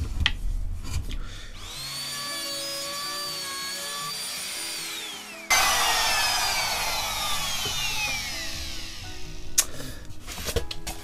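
Trim router fitted with a small bearing bit cutting around the edge of a bass guitar body, a steady high motor whine that shifts pitch as it bites into the wood, loud and close, with no talking.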